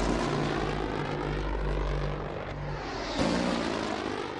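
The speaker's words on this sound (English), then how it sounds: "Little Bird helicopters are dispatched in a desperate bid to hold the Somalis back." Little Bird military helicopters fly low overhead in a combat setting, a loud, steady engine and rotor roar with a low droning hum that swells again near the end.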